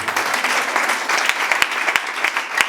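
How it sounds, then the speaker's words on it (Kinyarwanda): A church congregation applauding together, a dense sustained wash of clapping with a few louder individual claps standing out, close and continuous throughout. "Dukomere Imana amashyi"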